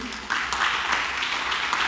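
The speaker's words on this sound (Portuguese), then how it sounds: "Dá um aplauso ao Senhor aí." Congregation applause during a church sermon, a short burst of broad clapping that swells after a brief quieter start and continues steadily, with some voices mixed in.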